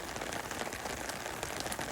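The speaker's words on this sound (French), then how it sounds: "Saint-Hilaire-Bretman sous la pluie" Steady rain falls around Saint-Hilaire-Bretman, a dense, even hiss of drops pattering on surfaces, with occasional sharper taps close by and no voices.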